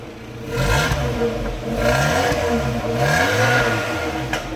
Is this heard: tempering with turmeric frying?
no